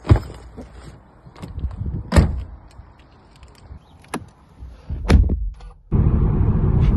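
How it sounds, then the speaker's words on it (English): Someone climbs into a car, with shuffling movement and thumps followed by a solid door slam, after which a steady engine or road hum takes over; no talking is heard. "just got in the car"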